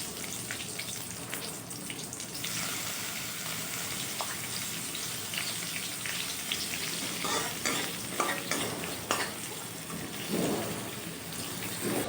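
Potatoes frying in oil in a wok, a dense, continuous close sizzle with occasional stirring scrapes and clatter, steady and fairly loud, with no voices.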